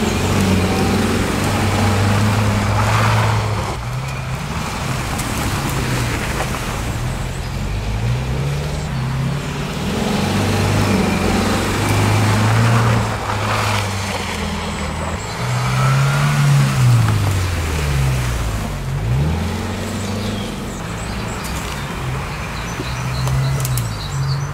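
A car engine runs outdoors in winter, its low drone rising and falling in a series of revs over a steady idle, close and continuous with no voices.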